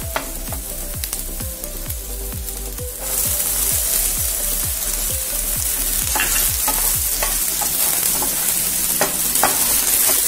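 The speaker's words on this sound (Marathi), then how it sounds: "व्यवस्थित या शिमला मिरचीला आपण आता परतून घेऊ" Chopped capsicum sautéed with green chillies in a hot pan, a loud steady sizzle with rhythmic scraping strokes of a spatula stirring the pieces, the sizzle growing stronger partway through.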